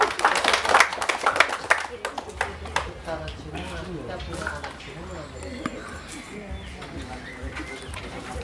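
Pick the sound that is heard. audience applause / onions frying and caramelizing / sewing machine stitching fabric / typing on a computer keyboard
audience applause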